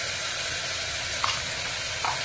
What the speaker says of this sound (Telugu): ఈ విధంగా ఆనియన్ అంతా బాగా వేగిపోయిందండి.